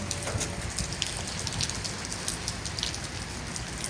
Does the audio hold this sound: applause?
no